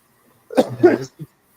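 A short, close cough in a couple of rough bursts, followed by a small trailing hack.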